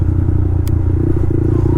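A Yamaha MT-15 motorcycle with a full Akrapovic exhaust system, running loud and close with a deep, steady throbbing rumble. A short crackle sounds partway through.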